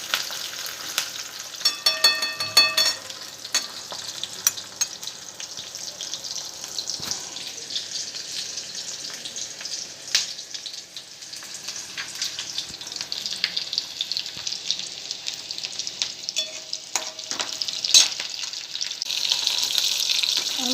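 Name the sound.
frying onion and coconut in oil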